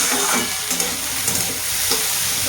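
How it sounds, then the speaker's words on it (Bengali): A spicy dish fries loudly in a pan, a dense continuous sizzle with periodic stirring scrapes, heard close up. "এটা ভাজা করে নেবো ভালো করে, ঢাকা দিয়ে দিয়ে ভাজা করে নেব।"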